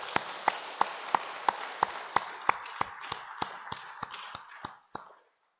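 A church congregation claps in a steady unison rhythm, about fifteen crisp even beats that speed up slightly before a final clap and silence, welcoming the Sunday school children.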